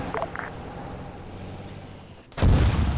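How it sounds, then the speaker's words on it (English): Anti-aircraft artillery firing in a combat video game, a couple of short bursts early, then a sudden loud booming blast near the end, with no talk. "There's AAA firing at Ice"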